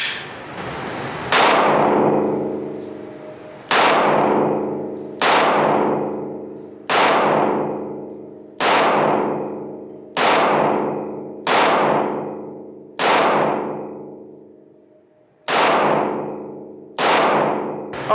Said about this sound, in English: so I'll take 10 shots, see what it feels like